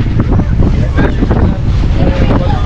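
A boat ride out on the sea off Malvan in heavy rain, with loud rumbling engine and water noise and strong wind buffeting the microphone throughout.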